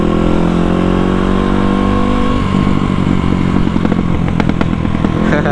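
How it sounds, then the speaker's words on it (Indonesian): A motorcycle exhaust, hot after a long ride, drones loudly as the engine drops off, then crackles and pops in a rapid burst of sharp backfires close by. "Kadang kalau udah jalan jauh panas itu panjang backfire-nya."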